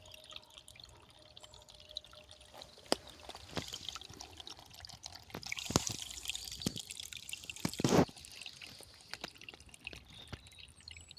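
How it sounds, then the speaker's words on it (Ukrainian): A small stream trickles through spring woodland, a faint, steady watery murmur with scattered soft drips and a few brighter splashes rising above it. "тут є струмочок."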